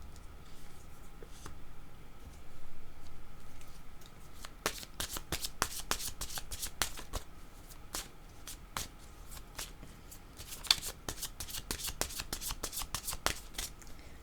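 Tarot cards are shuffled for a reading, a long run of crisp riffling and flicking bursts, close and fairly loud, over a faint low background hum.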